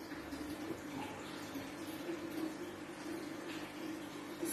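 Hot water pours steadily into a container during a home science experiment comparing hot and cold water, making a continuous, fairly quiet splashing rush that lasts throughout with no talking.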